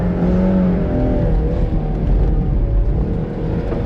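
A 2007 Mazda NC Miata driven hard on an autocross course, its engine revving loud and close with a steady, continuous roar and rising whir, tires still cold.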